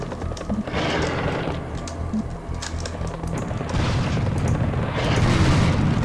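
Rocket launcher blasts and deep booming explosions in Serious Sam HD, heavy repeated detonations layered with gunfire, growing louder toward the end.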